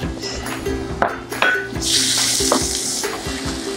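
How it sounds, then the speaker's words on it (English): Onion and garlic hit hot oil at medium-high heat for lemongrass pulled meat fried rice, breaking into a loud hiss that swells midway, with spatula scrapes and pan clinks scattered across the short stretch. "I think it's hot enough for us to add our onion and garlic."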